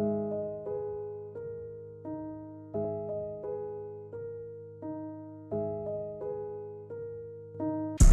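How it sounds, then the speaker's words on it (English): A dark, slow piano melody played on the Noir Pure piano in FL Studio, with repeated sustained chords struck roughly every second and fading between hits, clean and solo. "So the piano that I'm gonna be using is Noir Pure."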